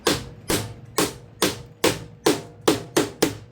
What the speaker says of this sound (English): I'm going to get a rubber hammer